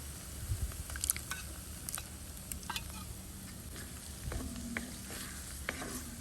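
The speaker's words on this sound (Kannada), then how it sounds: "ಚೆನ್ನಾಗಿ ಫ್ರೈ ಮಾಡಬೇಕು" Masala paste with tomato and cooked peas fries in a pan under a steady low sizzle, with soft scraping and stirring noises close by.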